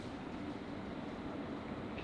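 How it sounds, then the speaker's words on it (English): Steady low rumble of a train rolling past at a distance outside Adelaide Gaol, an old jail, a continuous faint drone with no voices. "there is a train going by"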